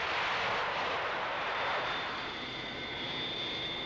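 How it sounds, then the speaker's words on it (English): Singapore Airlines Boeing 727 landing at Changi Airport, a loud, steady roar of jet engines that holds for several seconds, with a high whine emerging as the aircraft passes close by. "Shortly after 7, the first scheduled flight landed at Changi Airport. It was a Singapore Airlines Boeing 727 from Kuala Lumpur."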